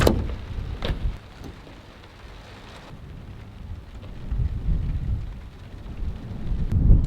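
Heavy rain of a strong thunderstorm drums around a camping truck while low rolling thunder swells and fades, loud and close with no voices.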